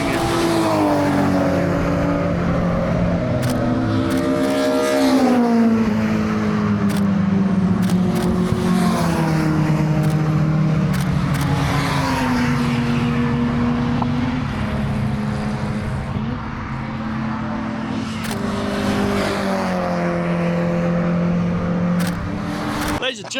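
Historic race cars chase each other around Zandvoort circuit at the Historic Zandvoort Trophy, their engines roaring loud and close and rising and falling in pitch as they accelerate and pass, continuous throughout.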